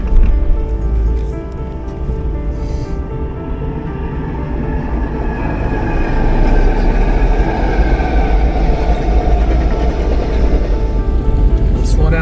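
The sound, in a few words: passing train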